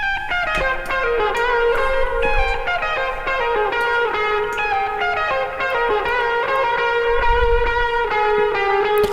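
Melodic instrumental notes drenched in a wide, dark 1970s-style vintage reverb plugin with a wavering, modulated shimmer, playing continuously and fairly loud without any voices.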